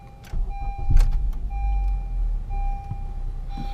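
A 2015 Honda Accord engine, heat-soaked for an hour after intake valve cleaning with CRC GCI cleaner, cranks and catches, then settles into a rough, loud idle rumble with a steady whine close by.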